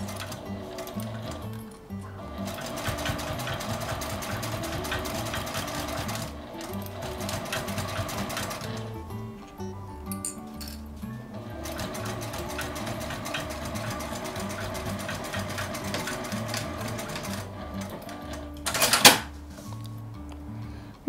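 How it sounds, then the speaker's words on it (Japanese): A sewing machine backstitches the edge of a canvas tote bag, running in steady mechanical stitching bursts with short pauses between passes, close and moderately quiet, with a brief sharper clatter near the end. "端のところはほどけやすいので3回ぐらい返し縫いをしておきます"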